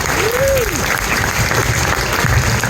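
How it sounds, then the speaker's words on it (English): Loud, dense applause from the audience at a stand-up comedy show, continuous clapping packed close together across the whole clip, with a faint whistle rising briefly near the start. "one more huge round of applause for Tom Kilday."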